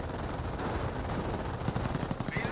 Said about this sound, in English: MG42 firing away, suppressing down these forces.